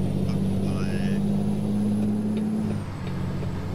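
A car drives along with a steady engine hum and road rumble throughout, the drone easing slightly near the end.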